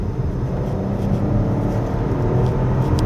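A 2025 Chevrolet Trax Crossover RS pulling away on a hot day, heard from inside as a steady engine whir and road rumble, with no talking.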